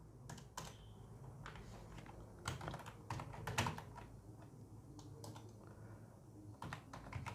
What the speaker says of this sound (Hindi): जल्दी से टाइप कर लेते हैं